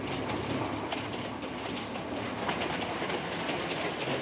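Passenger train rolling along rails across a salt flat in the Bolivian Andes, a steady broadband rumble with soft clickety-clack of wheels, continuous and fairly close, no voices.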